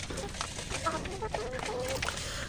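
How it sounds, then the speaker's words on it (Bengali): Chickens kept on a rooftop in winter cluck and chatter as they are fed, a busy, mid-distance flock sound with faint human voices mixed in. "তো এইখানে রনক কী করতেছিল, যেহেতু এখন পর্যন্ত মুরগিগুলোর কোনো খাবার দেওয়া হয় নাই,"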